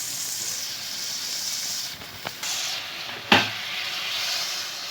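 Salmon fillet frying in a pan with butter garlic sauce poured over it, giving a steady broadband sizzle and hiss that dips briefly, then resumes with a sharp pop and continues evenly, close and moderately loud.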